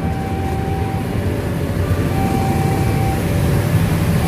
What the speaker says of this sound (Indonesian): Jadi keretanya yang lewat ini ada bunyi suara tiru-tiru-tiru.